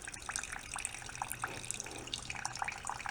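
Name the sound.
fuel flowing from a $1 generator's fuel line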